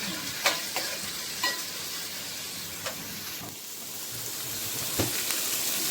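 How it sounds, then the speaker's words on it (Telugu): Onions frying gently on a low flame for egg pulusu, a soft steady sizzle with occasional light crackles and stirring clicks, close and unaccompanied by speech. "ఇంకా ఆనియన్స్ వేసేసి సిమ్లోనే పెట్టుకొని మంచిగా వేగనివ్వాలన్నమాట"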